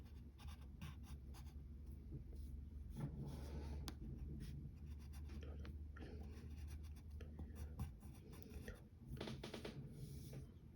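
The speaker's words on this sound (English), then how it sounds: "now let's draw these stripes." A pen drawing stripes on paper, with quiet close scratchy strokes in short repeated bursts at an uneven rhythm, faint and without speech.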